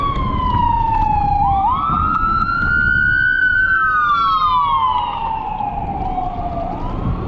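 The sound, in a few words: ambulance siren passing on a city street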